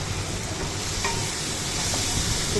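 Onions and tomatoes sizzle steadily in a pan as a rui fish curry is cooked, with a continuous hiss of frying and faint scraping from stirring, up close and without voices.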